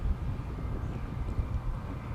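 TUI Boeing 737 MAX airliner at Amsterdam Schiphol airport, heard as a steady, fairly faint low jet engine rumble and roar with no voices.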